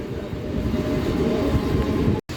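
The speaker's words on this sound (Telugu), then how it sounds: "పెందుర్తి నుంచి కూడా మన ట్రైన్ బయలుదేరిపోయింది." MEMU passenger train running between Visakhapatnam and Palasa, a steady loud rumble of wheels and carriage heard from inside, continuous throughout with one brief dropout near the end.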